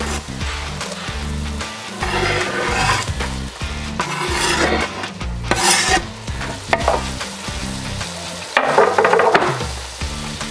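Vegetables fry in beer in a pot for venison chili, sizzling and bubbling loudly up close while a utensil scrapes and stirs in repeated strokes.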